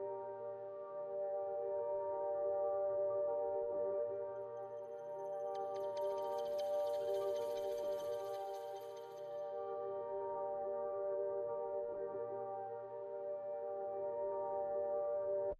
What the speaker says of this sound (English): I'm adding these two textures here from VM.